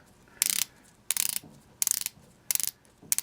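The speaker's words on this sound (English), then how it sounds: "The bezel is a 60 click unidirectional, and the action kind of blows. I'll be quiet and let you listen." The 60-click unidirectional rotating bezel of a Citizen Eco-Drive ProMaster Diver BN0190 watch ratchets in quick bursts of rapid clicking, five short close runs separated by brief pauses, quiet and alone.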